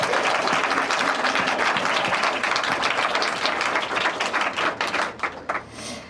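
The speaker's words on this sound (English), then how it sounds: "I'd like to give them a round of applause as well" A conference crowd at the Build Peace 2023 closing applauds the interpreters, loud dense clapping at first that breaks into sparser, distinct claps as it fades out.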